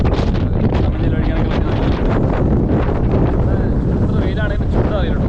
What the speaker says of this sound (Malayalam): നല്ല കാറ്റ് നല്ല കാറ്റ്